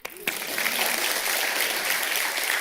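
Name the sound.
applause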